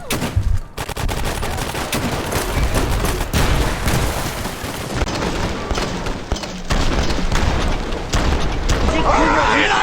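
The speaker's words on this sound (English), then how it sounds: "dude comes out of nowhere with a grenade machine gun" Grenade machine gun fire in the video game Fallout, rapid dense bursts and booms running almost the whole way through, with talk mixed in.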